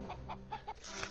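Cartoon chickens cluck in short, quick bursts, about four soft clucks in a row at moderate distance, with no speech.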